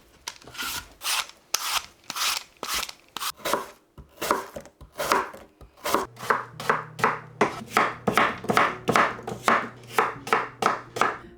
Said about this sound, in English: every night I have been chopping up a bunch of apples